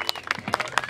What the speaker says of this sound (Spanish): ¡Un aplauso, familia!